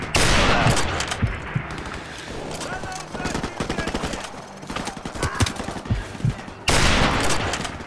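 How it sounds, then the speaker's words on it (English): Rapid gunfire in Modern Warfare Remastered, dense bursts of automatic shots crackling loudly at the start and end, with sparser shots and game sounds between. "I don't like the sound of the gun."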